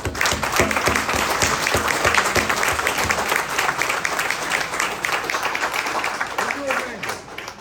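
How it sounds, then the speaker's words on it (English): An audience at a congressional compensation event in Las Vegas on radiation exposure from top secret military work claps in loud, sustained applause for several seconds before it tapers off. "I would like you to give him a hand of applause, please"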